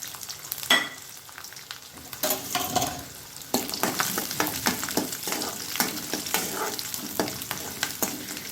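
Garlic and onion hit hot oil with popped mustard and fenugreek seeds for an eggplant kara kuzhambu, giving a loud, steady crackling sizzle with sharp spatters and stirring scrapes throughout, no talking.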